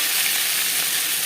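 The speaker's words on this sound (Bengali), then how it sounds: "লঙ্কা ভেজে নেওয়ার পর দিয়ে দিলাম খুবই সামান্য পরিমাণে কালো জিরে।" Black cumin and a dried red chilli sizzle in hot oil, a dense, even, close-up hiss that stays constant throughout the short moment.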